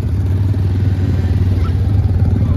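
A motorcycle engine rumbles loud and close with a steady low throb throughout, its mechanical clatter carrying without talk.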